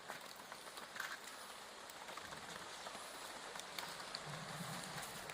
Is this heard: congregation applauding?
no